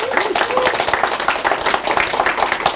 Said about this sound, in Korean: 잘 왔다는 사람 박수 한번 치세요.